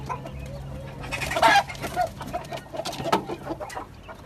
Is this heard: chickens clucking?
yes